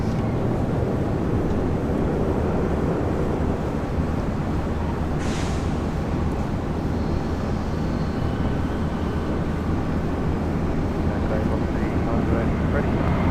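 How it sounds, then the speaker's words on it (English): A Jetstar Boeing 787 Dreamliner arriving at Brisbane Airport on a flight from Tokyo Narita, a loud continuous roar of engines and rushing wind that holds steady throughout, with a voice talking over it. "Our next Dreamliner. This is Jetstar Flight 10 coming in from Tokyo"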